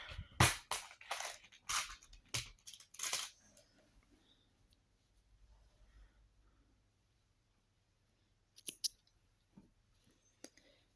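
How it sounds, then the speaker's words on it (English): Scissors cutting crochet yarn during a baby poncho project, a cluster of close, sharp snips and handling clicks early on, then a quiet stretch and a brief final click, no speech. "And then I'm going to cut my yarn"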